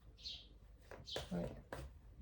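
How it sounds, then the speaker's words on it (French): Small birds perched on a balcony railing give a few brief high chirps, close by, mixed with a person talking quietly. "qu'est-ce qu'ils viennent nous dire ces petits oiseaux?"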